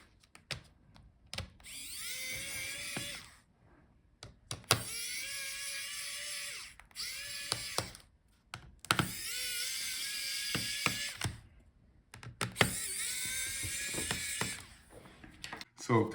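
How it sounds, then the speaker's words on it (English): A small electric screwdriver backs out the battery screws on a Dell Precision 3490 laptop, with several separate whirring bursts of two to three seconds each and short pauses between them, fairly close. "now take out the screws for the battery"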